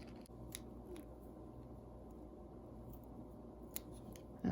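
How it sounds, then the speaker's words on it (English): Scissors snip scrubby sparkle crochet yarn thread in a few quick, faint cuts up close, with a soft click near the end and no talking. "Take my scissors."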